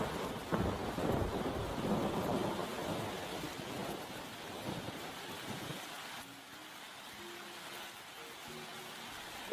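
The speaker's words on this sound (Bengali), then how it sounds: "মনে হয় এই বৃষ্টি আর থামবে না" Heavy rain pours steadily with rumbling thunder as a cartoon sound effect, dense at first and then thinning to a lighter patter with faint tonal notes near the end.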